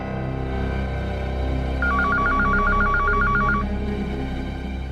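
An office desk telephone rings once with a warbling electronic trill over a low background hum of drama music, clear and in the middle distance.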